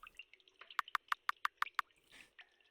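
A leaky faucet in a video game, water dripping in a quick run of about eight sharp, evenly spaced drops, with faint scattered sounds around them.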